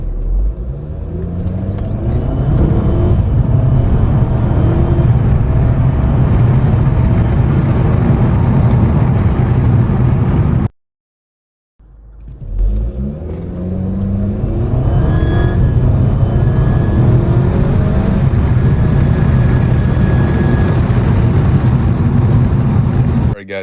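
A Skoda with a pod filter intake accelerating hard under manual shifting, its engine droning loud and steady with rising pitch through the gears and a short silent break midway.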